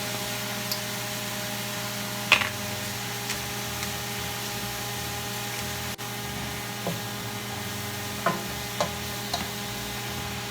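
Pechay being sautéed in a pan with pepper, adobo flavoring, oyster sauce and garlic, with a faint, steady sizzle and occasional light utensil taps and clicks against the pan, under a constant background hum.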